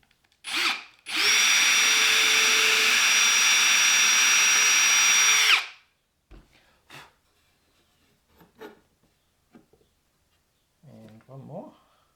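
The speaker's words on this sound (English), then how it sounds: "I'll drill some pilot holes." A power drill whines loudly for about four seconds after a brief burst, drilling pilot holes for a toy motorcycle, then stops; scattered clicks, handling noises and a short voice follow.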